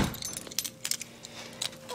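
A bunch of keys jangles close by beside a 1988 Chevrolet Nova hatchback with a locking gas cap, several bright metallic clinks in quick irregular bursts over a quiet background.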